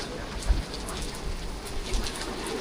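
Steady wind-driven rain pours down at an angle outdoors at night in Innisfail, Australia, a continuous wash of hiss with occasional heavier patters and faint low rumbles, no voices.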